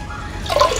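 Water is poured into a rasam pot in a short, close splash that swells briefly near the end of a brief moment.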